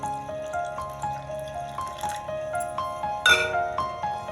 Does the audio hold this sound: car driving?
no